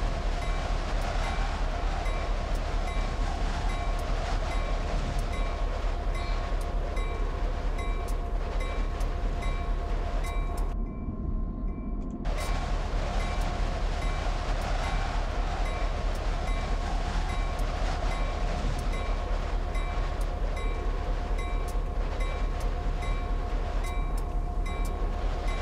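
Passenger train running in a Train Simulator game near Oceanside station, with a steady rumble, rhythmic rail clatter and sustained horn tones, and a brief drop-out near the middle.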